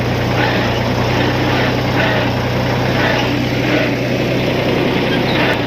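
Tractor engine running steadily while driving home past sugarcane fields in a rural Indian village, a loud continuous low drone with constant rumble and no pauses.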